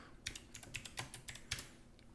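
Someone types on a computer keyboard, entering a virtual machine name: about a dozen quick, uneven keystrokes with clicky taps close by and quiet, no voices.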